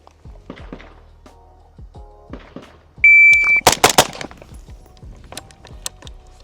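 Several sharp gunshots crack out one after another during a single-stage versus two-stage trigger comparison, loud, close and spaced unevenly, with a timer beep before them and faint rustling in between.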